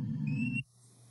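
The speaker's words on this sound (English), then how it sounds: "Here we have more examples of whistles. These are from Costa Rica." A pre-Hispanic Latin American clay whistle with a small ball inside gives a single short, breathy tone that cuts off abruptly, heard alone and fairly faint.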